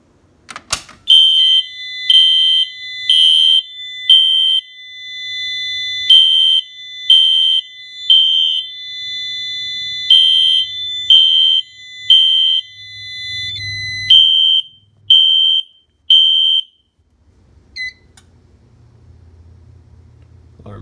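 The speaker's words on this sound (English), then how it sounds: "let's go ahead and pull the fire alarm." A Notifier NFS-640 fire alarm system with AMG voice evacuation sounds after a pull station is activated, giving loud, shrill, evenly spaced electronic tone bursts that repeat for about sixteen seconds, then stop with low room rumble.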